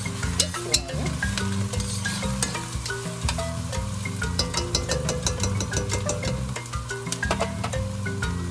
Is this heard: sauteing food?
yes